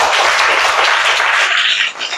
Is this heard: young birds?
no